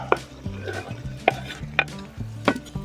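Meat dropped into a hot cauldron over an open fire for bogrács, a low crackling sizzle with a few sharp clinks and scrapes of a utensil against the metal, close by and without voices.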